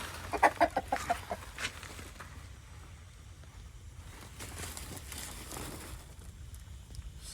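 Chickens cluck a few times near the start, then fade under steady low outdoor rumble and background noise for the rest of the recording.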